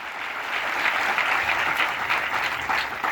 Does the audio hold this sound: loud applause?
yes